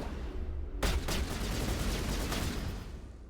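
Gunfire in the Mass Effect Legendary Edition video game, one sharp loud burst followed by a rapid volley of shots over a steady rumbling background.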